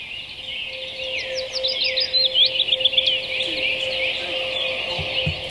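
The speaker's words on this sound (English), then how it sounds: "When the birds start singing, you'll hear a tone right before the piano kicks in." Birds sing in a recorded song, with quick chirps and trills over a steady sustained tone and a soft background wash, at moderate level, without voices.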